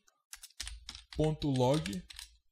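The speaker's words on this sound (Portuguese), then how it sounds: "Vamos digitar aqui console.log," Code being typed on a computer keyboard, rapid close clicks heard under someone speaking.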